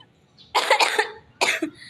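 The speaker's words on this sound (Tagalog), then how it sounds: "Inuubo na ako." A person coughs twice up close: a harsh double cough, a short pause, then a single cough, loud and dry with no speech.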